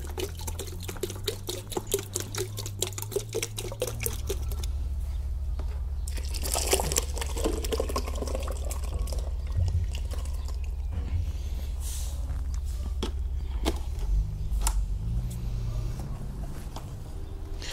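Water is poured into strong homemade liquid soap and stirred until smooth, giving a close, steady wet sloshing and churning with scattered clicks and splashes, with no voices.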